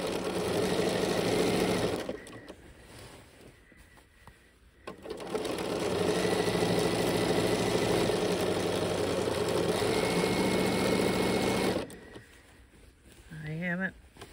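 A sewing machine stitches quilt fabric along a quarter-inch seam in two close, rapid runs: a short burst, a pause, then a longer steady stretch. A person talks softly between and around the stitching.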